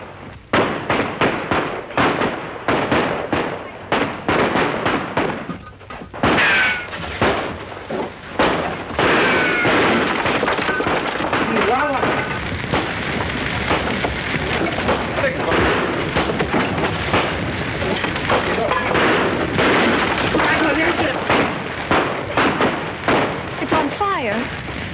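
Gunfire in a shootout from a western film, a dense stream of loud sharp shots and cracks, some rapid and overlapping, under shouting voices and dramatic movie sound throughout.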